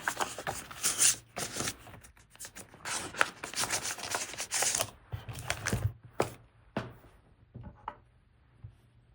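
A filming sticker is pressed and rubbed onto a paper page of a Hobonichi Cousin planner, giving steady close papery rubbing and scratching with soft taps over several seconds.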